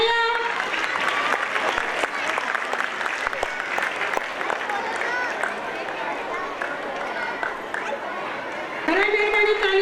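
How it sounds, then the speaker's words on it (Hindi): An audience at an Urdu school's annual gathering program applauds the students with sustained, dense clapping, with a voice speaking at the start and end. "तलबा के इस्तकबाल के लिए जोरदार तालियां बजाइए।"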